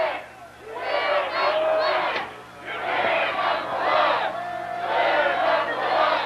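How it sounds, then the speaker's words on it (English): A high school football crowd at a championship final screaming and chanting in rhythmic waves, loud bursts of many voices rising and falling in a repeated cadence. "can you hear the crowd screaming, chanting, "We're number one.""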